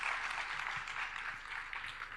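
A seated audience applauds to welcome speaker Jay Vasavada at a talk, a soft, steady patter of clapping heard from a distance.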